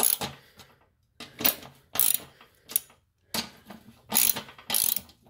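A ratchet wrench tightens half-inch bolts on a newly installed spindle on a Cub Cadet mower deck. It makes several short bursts of rapid clicking close by, separated by brief pauses, with no talking.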